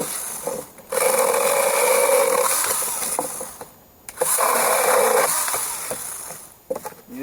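GTA-26 one-handed battery saw cutting through old dry vine maple, two long sustained buzzing cuts with a rasping bite, each lasting a few seconds and separated by a short pause, loud and close.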